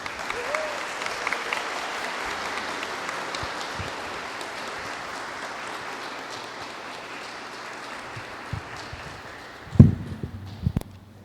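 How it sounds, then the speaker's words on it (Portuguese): Wedding guests applaud the newlyweds after the ceremony vows, a steady wash of clapping that fills the room, then thins out with a few louder, closer claps near the end. "Uma forte salva de palmas"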